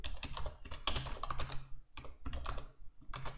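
Typing on a computer keyboard while entering a git config command: quick, close clicky keystrokes in uneven bursts separated by brief pauses.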